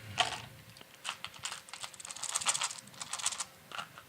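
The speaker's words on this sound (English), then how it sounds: "We're going to shake them up." Dice rattle inside a dice cube for a Dungeon Academy game, a busy clatter of many small hard clicks rising and falling over several seconds, close and without voices.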